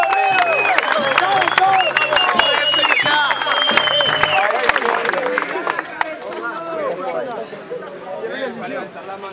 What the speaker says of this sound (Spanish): ¡El aplauso arriba!